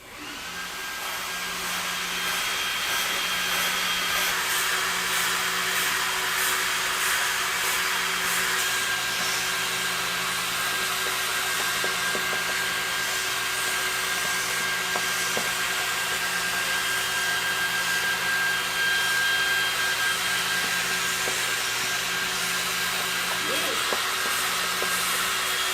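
A laser cutter runs at 2000 mm per minute and full power while cutting cardboard, producing a steady, loud whooshing hum of fans and air assist that continues unchanged for the whole stretch.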